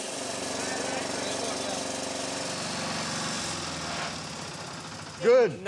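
A small engine runs on diesel fuel made from plastic bags aboard a boat in Trincomalee, Sri Lanka, with a steady close chugging hum throughout; speech is heard briefly near the end.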